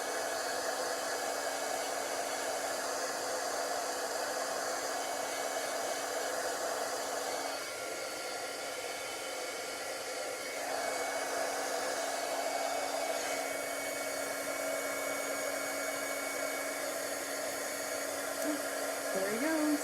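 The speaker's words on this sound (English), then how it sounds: "I hope it kind of mutes it when I'm doing the heat tool." A heat embossing tool blows hot air over ink on a stamped card in a continuous, steady whoosh with a faint hum, lasting throughout at moderate volume with no talking.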